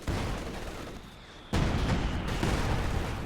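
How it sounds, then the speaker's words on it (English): Artillery gun barrage in Company of Heroes, heavy booming blasts rumbling one after another, with a fresh loud impact partway through and a sustained roar of explosions after it. "This gun probably wants to barrage."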